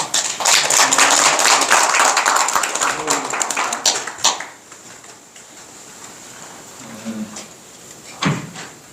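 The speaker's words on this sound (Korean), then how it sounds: "큰 박수로 맞아주시기 바랍니다" Loud applause from an audience at a policy debate forum fills the room for about four seconds, then fades into quiet murmuring with a few scattered claps and taps.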